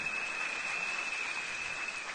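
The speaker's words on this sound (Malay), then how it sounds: "tepukan kepada umi saya" Applause at a business recognition ceremony for the speaker's mother seated at the back, even continuous clapping from a crowd, with a steady thin tone running through it.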